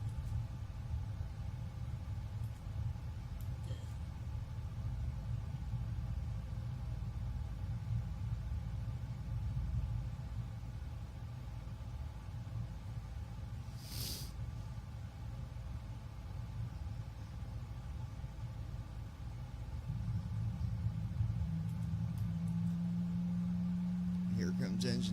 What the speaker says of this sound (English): Here comes engine 2 right now.